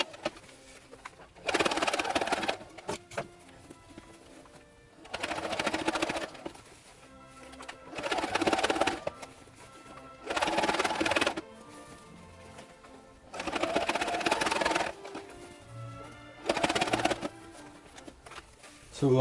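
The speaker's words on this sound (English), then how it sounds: "My sewing machine does not like this fabric." A sewing machine stitches a single seam through folded fabric for an Imperial officer hat, running in separate bursts of about a second each, separated by pauses, close and fairly loud.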